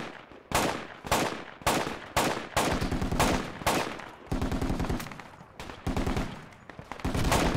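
Repeated bursts of automatic gunfire in the Project Reality military shooter on the Burning Sands map, loud rapid volleys in short strings separated by brief pauses, with no voices.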